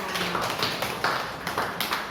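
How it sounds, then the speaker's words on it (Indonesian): Children and their teacher in a school classroom applaud together, a dense run of overlapping hand claps rising and falling in uneven bursts for about two seconds, close and moderately loud with no talking. "Tepuk tangan buat kita semua."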